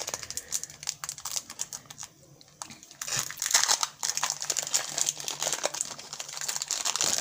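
A Fantasy Riders card booster pack is torn open and handled up close, with repeated crinkling and crackling foil rustles, a brief pause, then louder bursts of wrapper crumpling.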